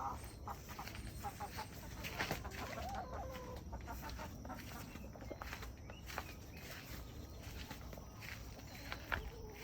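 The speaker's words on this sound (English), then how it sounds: "Happy chickens." Chickens on a Honaunau farm fed on scraps and grain, clucking and squawking in short repeated bursts at close range, with footsteps and scuffling among them and no talk.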